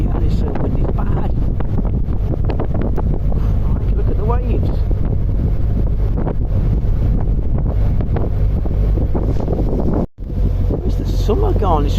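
Strong wind roars and buffets the microphone nonstop on a narrowboat near Doncaster, with waves faintly beneath and a person speaking over the gusts.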